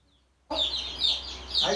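Hens and a rooster cluck close by in a backyard flock of three hens and one cockerel, breaking in abruptly after a brief silence and continuing in loud, repeated bursts.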